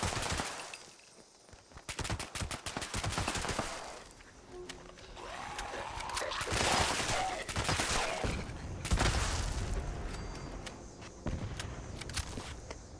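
A Gauss minigun fires in the video game Fallout 76, heard as rapid bursts of heavy gunfire with sharp repeated cracks and whirring, interrupted by quieter gaps.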